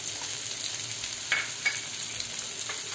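Onion sizzles in a pan for street-style egg bhurji, a steady close hiss broken by a couple of brief stirring scrapes.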